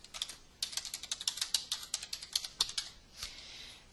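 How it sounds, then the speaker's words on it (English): A computer keyboard clatters close by as a password is typed, with a quick uneven run of crisp key taps, a short pause and a few final presses, and no voices. "So I'm going to go ahead and type in my password."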